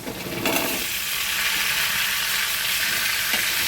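Pieces of pointed gourd sizzle and fry in hot oil, with a loud, continuous crackle that starts up sharply as they hit the pan and keeps going, plus a brief stirring scrape near the end.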